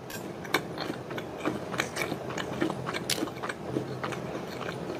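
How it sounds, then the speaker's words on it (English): A woman eats Wendy's chicken nuggets close to the microphone, with wet, sticky chewing and biting sounds in an irregular rhythm and small smacks throughout, no talking. "the eating sounds in this are pretty extreme"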